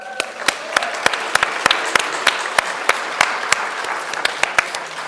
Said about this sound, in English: Maybe a little bit of applause for Shera.